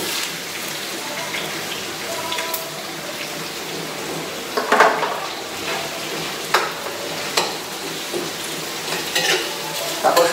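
Ground meat frying in a pan at home while being stirred, a steady sizzle with repeated scraping and clinking of a utensil against the pan, close and fairly loud, with faint background voices.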